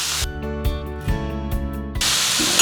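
Tomatoes go into a hot pan already holding carrots, bell pepper and peas. A few soft knocks come first, then a sudden loud, close hiss of sizzling that lasts to the end.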